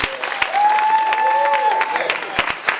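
Audience applause at a TLC Super Saturday gathering in Raleigh, North Carolina: steady dense clapping from a crowd, fairly loud and sustained throughout, with a faint voice or tone carrying above it.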